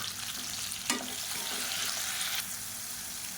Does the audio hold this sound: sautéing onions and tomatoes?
yes